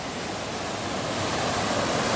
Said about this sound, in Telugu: చూడండి వాటర్ ఎంత సుడిగుండాలు కొడుతుందో